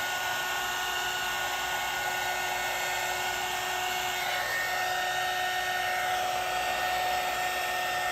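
A handheld dryer blows steadily to dry pigment on paper during a paper-smushing craft, a continuous close, loud whirring rush with a faint high whine, running unbroken throughout with no talking.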